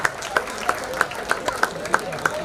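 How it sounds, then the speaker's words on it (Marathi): A crowd at a cricket prize ceremony for the Jam Premier League 2024 in Lalbaug claps in a steady, rhythmic beat, about eight evenly spaced claps over a busy background. "मित्रांनो पार्थ बुचके, जोरदार टाळ्या होत्या."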